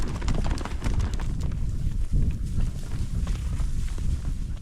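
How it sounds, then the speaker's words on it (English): Horses running on open ground in the American West, a steady rhythmic drumming of hooves close to the microphone, continuous throughout with light wind noise. "Back on the run, on horses that never break a sweat,"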